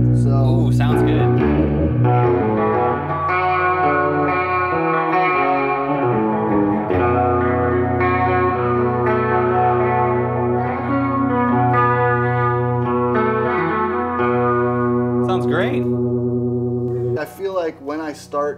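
A baritone guitar rings out in sustained, heavily reverberated chords through a BX-20 spring reverb, lush and washy with long decaying tails, and a few brief sounds are heard near the end.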